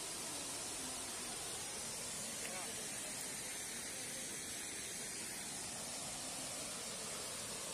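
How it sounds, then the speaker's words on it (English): Burgess Falls pours a large volume of water, a steady broadband roar and hiss that stays constant and faint at a distance with no break. "Here's another part of a waterfall here."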